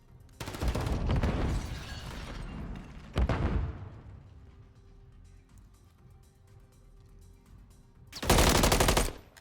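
Automatic gunfire in a competitive Call of Duty hardpoint match, loud close bursts of rapid fire in three separate strings, the last one sharp and intense, with quieter game ambience between them.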